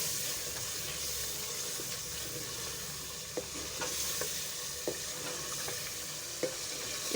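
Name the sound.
stirring and frying meat in onion gravy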